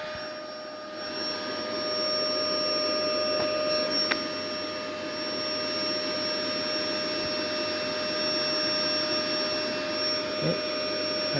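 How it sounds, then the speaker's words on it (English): A suction vacuum used to draw bees into a vacuum box during a chimney beehive relocation drones steadily at a lowered setting, a constant close whine with a few faint knocks and no speech. "we've dropped the suction down, right down, and we're going to release her into the vacuum box."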